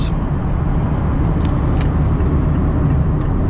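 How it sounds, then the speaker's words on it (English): A Mazda MX-5 Miata ND merges onto the Autobahn, its engine and road noise a steady, loud low drone heard from inside the car, with a few faint high chirps above it. "Now I'm getting on the Autobahn and"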